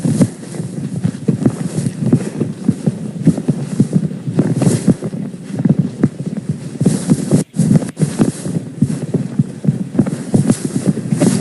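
Horses on a ranch moving about outdoors, their hooves clip-clopping in a steady, continuous rhythm close by, with wind buffeting the microphone throughout.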